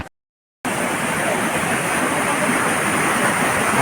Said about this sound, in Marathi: हा पाणी बघा मित्रांनो